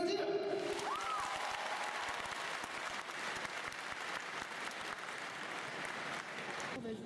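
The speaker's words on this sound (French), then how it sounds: "Ok, vous pouvez applaudir." Loud, sustained applause from a large audience fills the whole stretch, dense and continuous, with a brief tone fading out at the start, at Japan Expo 2016.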